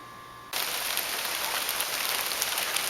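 Hail falls outdoors, starting abruptly as a dense, even rattle of hissing impacts that keeps up steadily without any voices.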